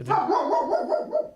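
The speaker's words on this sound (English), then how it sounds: "sorry for the dog interruption" A dog lets out a single drawn-out, wavering bark close by, lasting just over a second, with a brief word spoken at the start.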